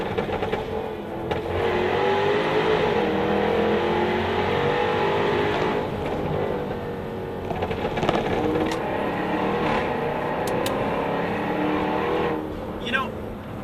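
Jaguar F-Type R AWD engine revving and pulling hard while driving at the Mille Miglia, a loud steady engine roar with rising and falling revs throughout, a voice talking faintly underneath.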